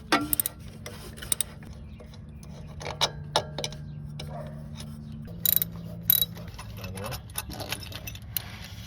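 Hand ratchet clicking in short irregular bursts while loosening AC compressor bolts on a 2003 Toyota Camry, close up in a quiet garage, with a low steady hum underneath and occasional metallic knocks.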